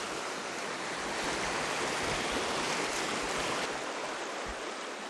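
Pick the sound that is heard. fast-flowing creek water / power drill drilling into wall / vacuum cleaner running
fast-flowing creek water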